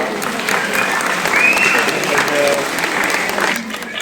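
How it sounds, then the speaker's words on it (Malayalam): An audience applauds to welcome a couple onto the stage at a celebratory event, a dense burst of clapping close by that holds steady for several seconds before easing, with some voices mixed in. "നമുക്ക് നല്ലൊരു കൈയടി കൊടുത്തുകൊണ്ട് ശ്രീ വിശ്വനാഥിനെയും അദ്ദേഹത്തിന്റെ വൈഫ് മിസ്സസ് ശിവ വിശ്വനാഥിനെയും വേദിയിലേക്ക് സ്വാഗതം ചെയ്യാം"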